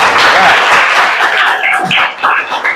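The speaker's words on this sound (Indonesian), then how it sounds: "tepuk tangan buat temannya" Children in a primary school classroom clap for a classmate after a lesson on Borobudur temple, a burst of dense, close applause lasting a few seconds with some voices mixed in.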